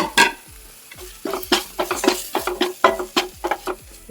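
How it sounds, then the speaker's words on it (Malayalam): Spice powders fry in a pan for prawn masala as a utensil stirs them briskly, with quick rhythmic scraping strokes over a soft sizzle, close by and with no voices. "നല്ലോണം ഇളക്കി കൊടുക്കുക"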